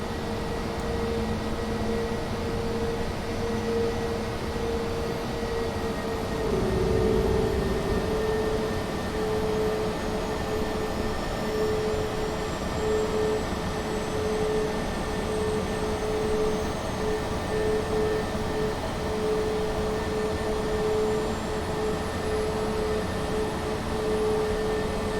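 An Airbus A320 taxis toward the gate in Microsoft Flight Simulator 2020, its engines holding a steady whining hum with a constant tonal drone and faint cabin rumble throughout.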